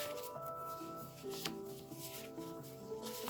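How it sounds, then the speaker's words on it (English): Handmade tarot cards are shuffled near the listener in a quiet room, soft papery slides and light taps repeating unevenly over a few seconds. "I'm just going to shuffle through these, because I made a couple of cards."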